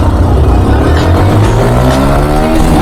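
A Yamaha R15M and a Pulsar 220F roar through a friendly drag race, with loud, close engine revving that climbs steadily in pitch across the run and never lets up.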